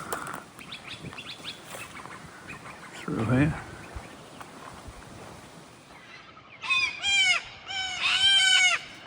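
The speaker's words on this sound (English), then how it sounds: "So as you can imagine, with all these old trees around, there's a lot of birds" Birds call among old trees on the Bugle Ridge Track: a harsh squawk, then a series of loud, bright whistling calls near the end, with someone talking briefly at the start.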